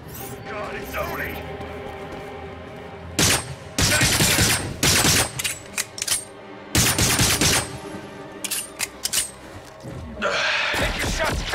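Video game gunfire in Agents of Mayhem comes in loud, dense bursts of automatic fire separated by short lulls, with voices and game sounds in between.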